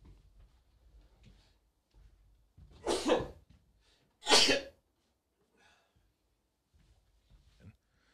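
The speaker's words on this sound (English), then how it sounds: "I gotta sneeze again." Two loud, sharp sneezes about a second apart from one person, standing out clearly against a quiet room with faint rustling and breathing before and after.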